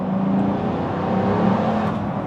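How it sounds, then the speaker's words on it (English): A hypercar's deep engine exhaust drones steadily, a throaty low hum holding fairly loud with a faint whir above it, no voices. "Listen to the exhaust."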